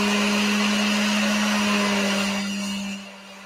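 A power grinder runs loud and close with a steady, harsh motor whine and hum, then starts to spin down near the end.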